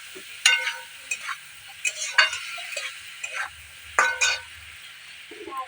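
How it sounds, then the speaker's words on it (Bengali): Turmeric being stirred in a frying pan, with spatula scrapes and clinks in irregular bursts over a soft background sizzle, close up and without talk. "একটু নাড়াচাড়া করি।"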